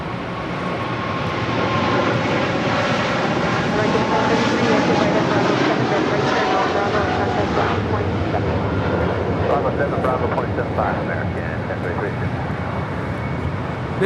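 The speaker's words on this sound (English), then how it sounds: "This is Nippon Cargo Airlines 101 taking off to Tokyo Narita on a 747-8 freighter." Nippon Cargo Airlines Boeing 747-8 freighter jet taking off from LAX, bound for Tokyo Narita, a loud continuous roar that swells and then holds steady for the whole stretch, with someone talking over it.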